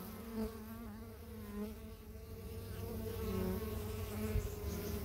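Bees buzz around a nest entrance as they return carrying colored pollen, a soft, continuous hum of many wings with small fluctuations as individuals pass near and away.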